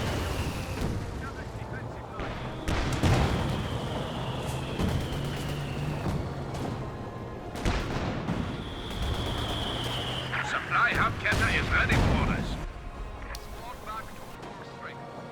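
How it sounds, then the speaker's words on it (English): Distant British artillery booms and crumps in a WWII strategy game battle, several low thuds spread across the span amid rumbling battlefield noise, with a person talking throughout. "More artillery from the Brits."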